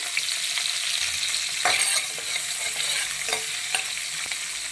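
Chopped green chillies sizzle in hot oil in a pan, a continuous close hiss with bursts of crackling and occasional scraping stirs.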